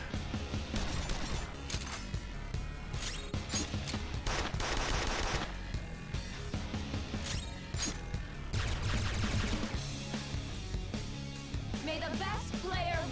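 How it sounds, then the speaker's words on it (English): Gunfire from a turn-based battle in the video game Persona 5 Royal comes in rapid, loud volleys layered with crashing impacts and game music. "Gonna open up with guns."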